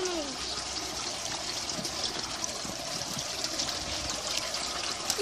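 A Baby Alive toy doll swimming in water, giving a continuous soft trickling and light splashing at close range, with faint background voices.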